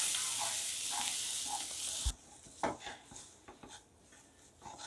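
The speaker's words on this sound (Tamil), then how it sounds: "சேர்த்து நல்லா இதை கிளறி விட்டுடலாங்க" Roasted semolina and moong dal get stirred in a pan, a faint steady sizzle giving way to soft scattered scrapes and light clinks of the spoon against the pan.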